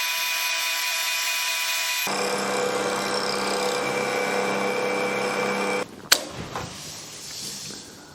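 A power drill runs with a high steady whine that drops in pitch as it bites into the workpiece, then cuts off with a sharp clack and some rattling handling noise.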